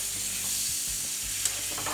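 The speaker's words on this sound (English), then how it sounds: "You can see how the pan is deglazing here with that white wine." A hot restaurant pan sizzles steadily as white wine deglazes the dark browned bits, a close, continuous crackling hiss with faint stirring scrapes and no talk.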